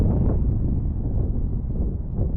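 Steady wind buffets the microphone outdoors during a fishing trip, a constant low rumbling roar with no pauses, close and fairly loud throughout.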